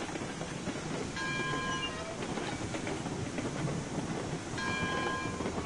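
A train runs on rails in the Railway Empire video game, with a steady rumbling roll and clickety-clack over the whole stretch and two brief high whistle-like tones partway through.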